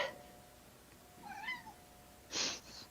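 A cat lets out a short, rising meow, then a louder, sharper meow a second later, close by in a quiet room.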